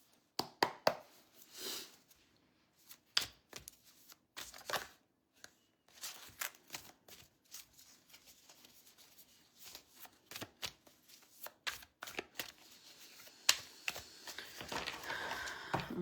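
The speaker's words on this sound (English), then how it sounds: "split the deck in half and then shuffle" Tarot cards are shuffled in repeated quick riffling bursts, crisp and close, separated by short pauses and soft handling sounds.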